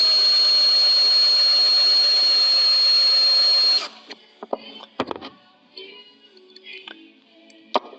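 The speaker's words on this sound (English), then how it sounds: "Just take your time. You're only drilling aluminum." An electric drill bores through aluminum on a Ford 8N tractor ignition job, giving a loud steady high whine for several seconds before stopping abruptly, followed by scattered clicks and knocks of handling.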